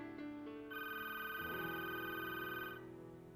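A telephone rings with a sustained electronic tone that holds steady for a few seconds and then cuts off, fairly quiet with no talking.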